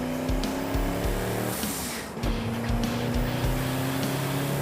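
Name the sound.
turbocharged Datsun race car driving at Laguna Seca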